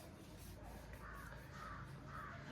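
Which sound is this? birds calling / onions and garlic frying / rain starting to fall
birds calling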